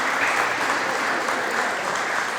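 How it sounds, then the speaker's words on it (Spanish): Applause from the audience at a pastoral seminar on committed women, loud and continuous, a thick even roar of many hands clapping together with no voices over it. "Entonces, junto a Yasna y Mireya, queremos manifestar nuestra gratitud, nuestra alegría, con un gran aplauso"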